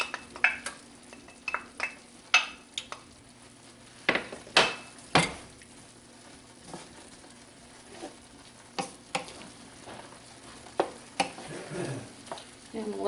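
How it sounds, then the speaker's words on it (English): Onion and garlic fry with browned ground lamb in a pan, a soft sizzle broken by loud irregular knocks and scrapes of a utensil stirring, louder bursts near the end. "now the meat's browned, so I'm adding my onion and garlic"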